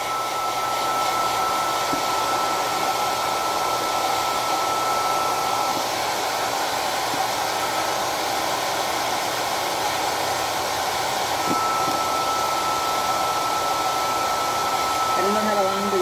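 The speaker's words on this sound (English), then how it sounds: "So hopefully this hairdryer still works," A hairdryer runs on its low setting for the whole stretch, a steady, even, close-up whoosh of blown air that holds the same level throughout, used on a SmartDoll eye cradle.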